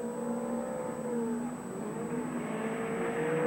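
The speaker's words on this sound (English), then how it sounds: "And really getting the Mercedes wound up." Works Mercedes rally car at the 1980 Motoguard Rally, its engine revving hard with rising and falling pitch as it winds up through gears on a wide open stage, moderately distant with no talk.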